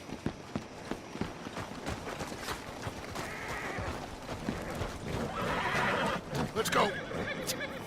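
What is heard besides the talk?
horses neighing, video game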